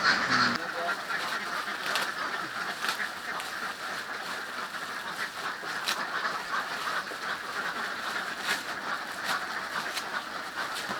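A big crowd of ducks quacks densely and without pause in the middle of a capital city, a loud, continuous chorus with voices mixed in.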